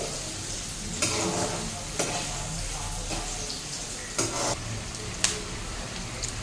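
Green chillies and other chicken curry ingredients fry in a pan with a constant sizzle, broken by a few scraping stirs of a spoon at irregular intervals.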